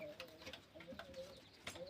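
Pigeons coo softly at a pigeon market, several low repeated coos over a busy background with occasional brief chirps.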